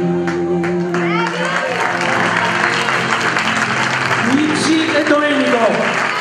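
Audience applause at a birthday celebration for a priest, continuous clapping mixed with crowd voices and some sung or called-out tones over it, staying fairly loud throughout.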